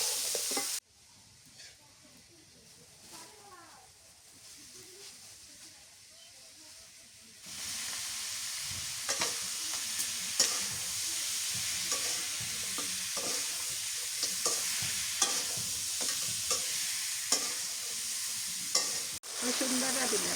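Spices are stirred and fried in hot oil: a quiet scraping and stirring stretch first, then a louder, continuous sizzle and hiss broken by repeated spoon scrapes close up.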